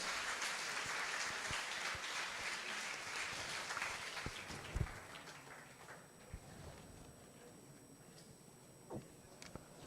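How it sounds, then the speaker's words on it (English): Audience applause for the panelists at an institute technology college session, a dense, sustained clatter of many hands that fades after about four seconds, leaving a quieter room with a few isolated thumps. "A round of applause for them."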